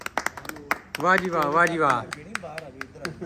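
A small group gathered to congratulate a new supervisor claps in sharp, scattered bursts near the listener. A voice cheers loudly over the middle stretch, and the claps continue irregularly before and after.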